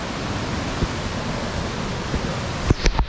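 A waterfall roars in a steady, dense rush of water, close and unbroken, with a few dull knocks and bumps near the end.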